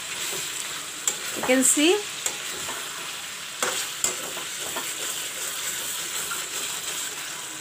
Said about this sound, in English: the chicken is frying along with the masala